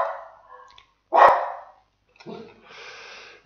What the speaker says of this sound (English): My dog starts barking.